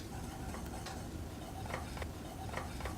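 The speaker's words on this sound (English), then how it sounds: "Just keep whisking to incorporate all the flour." A whisk works flour into cooking vegetables to build a roux, with a soft continuous stirring hiss and light, irregular ticks of metal against the pot, quiet and close.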